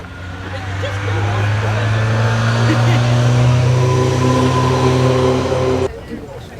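Vintage cars, including a lineup of Frazer Nash BMWs, idle and rev loudly in the Prescott hill climb paddock, a sustained rumble that cuts off near the end, with someone speaking over it.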